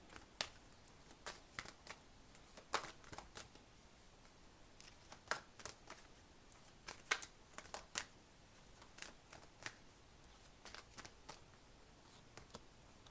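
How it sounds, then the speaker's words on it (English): Tarot-style relationship cards being shuffled and pulled, a quiet run of crisp riffling snaps and soft flicks spread across the whole stretch, close and faint with no talk. "I'm just going to pull some relationship cards for you"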